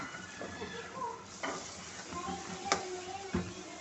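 Onions and tomato paste frying in oil in a karahi for chicken tikka karahi, a quiet sizzle with soft stirring scrapes and a few sharper clinks of a spoon against the pan.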